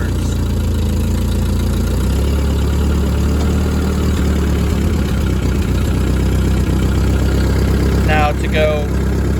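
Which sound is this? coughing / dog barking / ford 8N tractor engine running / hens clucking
ford 8N tractor engine running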